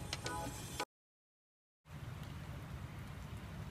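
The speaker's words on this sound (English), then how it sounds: "Yeah, it's still raining." Steady rain hissing and pattering on a surface, cut by a second of dead silence, then resuming at the same even, moderate level.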